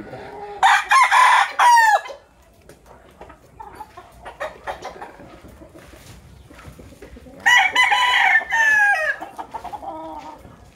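Gamefowl hens and roosters of Tornado Hatch and Raptor Sweater lines call on a farm, with two loud bursts of crowing and squawking separated by softer scattered clucks in between.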